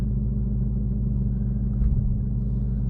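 A 2021 Ford Mustang Mach 1 engine rumbles steadily at idle, a deep, even low drone that holds close and loud throughout with a slight swell near the end, no voices.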